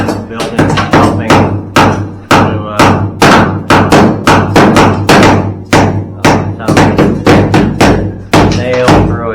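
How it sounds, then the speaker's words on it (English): A hammer chips out a tiled shower wall for shelving, loud close blows struck in a fast, steady series of sharp cracks with brief pauses. "They're doing a little demo work, chipping out for where the shelving is going to go in the shower"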